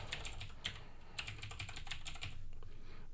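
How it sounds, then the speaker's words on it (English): A password goes in on a computer keyboard during a MySQL installation, with a quick, fairly quiet run of key taps in a close, irregular rhythm and no talking. "Now we can just type in our password."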